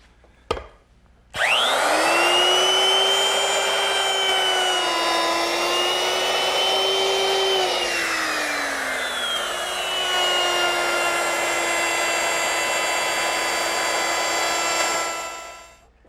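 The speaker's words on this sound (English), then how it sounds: "I'm going to use my router with a rabbeting bit" A router with a rabbeting bit cuts a rabbet in wood, spinning up to a loud, steady high whine with a dipping pitch as the bit bites the wood, running continuously for about fourteen seconds before winding down.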